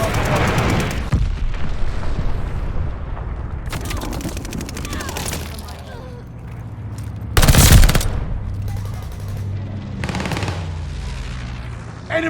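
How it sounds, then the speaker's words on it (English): Gunfire and explosions from a glide bomber attack in Mass Effect Legendary Edition, with bursts of rapid shots, heavy booms and a loud blast near the middle, plus voices and rumbling battle noise throughout. "Allied glide bomber on the way."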